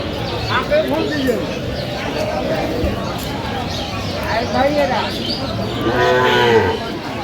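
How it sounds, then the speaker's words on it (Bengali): Several cow moos, some drawn-out and deep, rise over a busy outdoor crowd at a cattle market with people talking throughout; the loudest lowing comes near the end. "সুন্দর গাভী বাছুর আমরা দেখছিলাম এখানে,"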